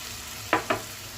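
A little oil goes into a pan of softened, cooked-down tomatoes for a mint chutney. Two quick, bright sizzling bursts rise close together over a steady background hiss, with no talking.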